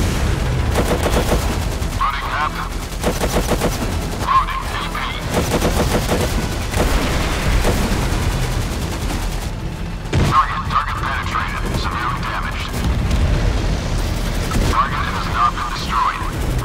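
Tank cannon firing sabot rounds in the MWT Tank Battles video game, amid a dense, continuous barrage of loud booms and rattling gunfire with repeated heavy blasts and battle noise throughout.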